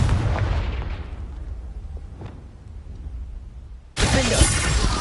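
A Confringo spell in Hogwarts Legacy: a sharp blast starts the clip and a long rumbling decay follows, then a second loud burst of crackling noise hits near the end.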